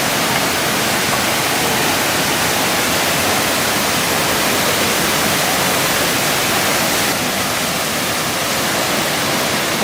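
The Bhanja river flows with a loud, dense, unbroken roar of rushing water that holds steady for around ten seconds, close and with no voices over it.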